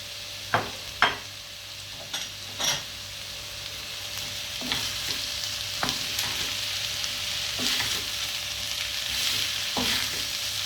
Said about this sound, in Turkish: Şöyle bunları ara ara karıştırarak kavuracağım.